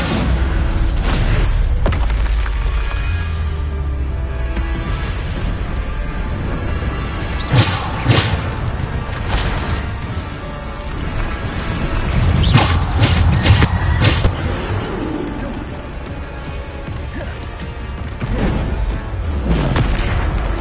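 Repeated booming explosions from the Bombarda spell in Hogwarts Legacy, with heavy thuds and whooshes and louder bursts clustered partway through.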